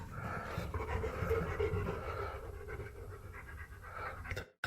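A dog pants steadily inside a cave, quick rhythmic breaths close by with a hollow, faintly echoing background, ending in a brief thump.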